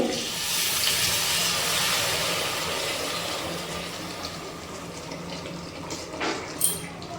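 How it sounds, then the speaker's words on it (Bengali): Warm water pours into a kadai pan for dhaba-style kadai chicken, a steady, fairly quiet rushing stream that fades slightly, with a few small clinks near the end. "এবারে আমি এর মধ্যে দিয়ে দিচ্ছি একটু উষ্ণ গরম জল"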